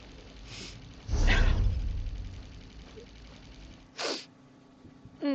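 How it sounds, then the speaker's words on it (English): A single sharp sneeze bursts out close to the listener, followed by a few fainter breathy sounds and quiet moments. "I'm sorry, I'm gonna sneeze."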